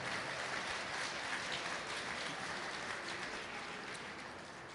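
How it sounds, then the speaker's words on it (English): Audience applause at a charity breakfast, a steady wash of many hands clapping together at moderate level, holding evenly throughout and tapering slightly toward the end. "Please give yourselves a round of applause."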